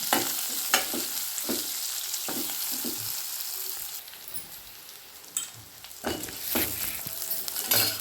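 Keerai greens sauté in a pan for a dal dish, with a steady close sizzle broken by irregular stirring scrapes and light metallic clinks.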